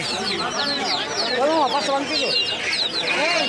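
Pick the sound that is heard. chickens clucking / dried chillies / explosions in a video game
chickens clucking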